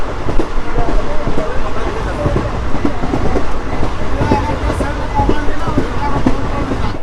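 A Kolkata–Lalgola Hazarduari Express train rolls out of a small halt station, with a loud, continuous rumble and rattling carriage clatter close by and a few faint voices mixed in.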